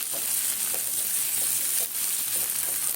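Black cumin seeds fry in a pan while a potol bhorta is being made, giving a steady, dense sizzle that continues without a break throughout, close and fairly loud with no talking.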